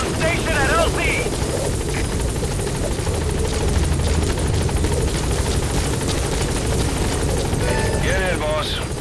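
The support helicopter in Metal Gear Solid V arrives with a steady, dense rotor drone filling the whole stretch, while voices and radio chatter sound over it.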